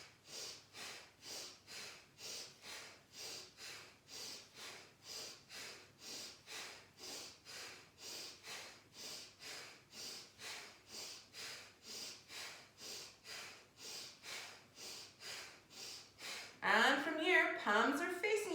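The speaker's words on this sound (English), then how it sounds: "Breathe in, breathe out, breathe in, breathe out, breathe in," Rhythmic Kundalini yoga breathing, steady in-and-out breaths repeating about every half second in a fast even pulse, close and clear, with a louder burst of movement near the end.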